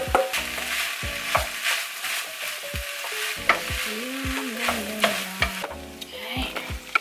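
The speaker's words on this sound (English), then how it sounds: "Now that it is more or less quite dry, I'm going to add these spring onions." Spring onions are stirred into keema frying in a pan, with a steady sizzle and repeated scraping, clattering stirs of a utensil against the pan, close up.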